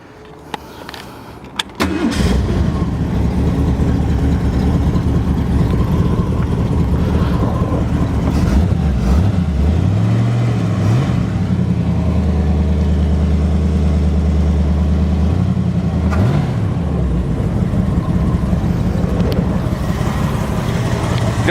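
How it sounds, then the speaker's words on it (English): A 1970 Cord Warrior Roadster with a rebuilt 289 engine and brand new exhaust cranks and fires up, then settles into a steady, close rumbling idle with a few brief revs partway through. "Got a nice sound to it."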